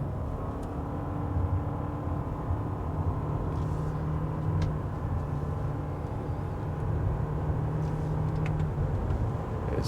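Inside a Toyota RAV4 Hybrid, a steady engine and road drone hums throughout with little change, with no clear gear-shift transitions standing out.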